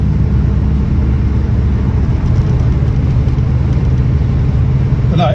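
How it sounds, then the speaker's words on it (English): A 1965 Jaguar Mark II 3.4 with manual overdrive cruises along with a steady, loud engine drone and road roar, made noisier by an open quarter light, continuous with no talk. "driving wise, I've got my quarter light open, so it's a bit noisier than perhaps it would be normally"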